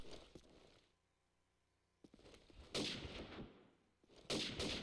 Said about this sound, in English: Sniper shots going off.